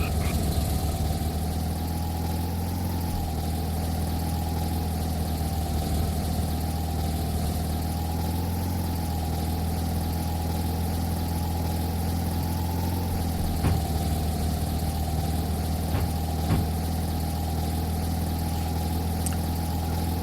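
A car engine idles steadily and evenly for the whole stretch, a constant low hum with no talk over it and a couple of faint clicks near the end.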